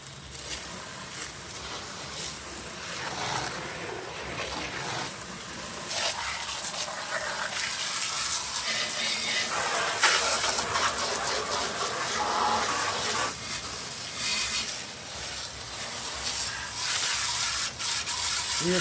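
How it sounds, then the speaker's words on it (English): Water hose spraying down a car engine bay cleaned with Super Clean degreaser, a steady close hiss and splatter of water that runs continuously with small shifts in intensity. "We're going to go ahead and spray this down now."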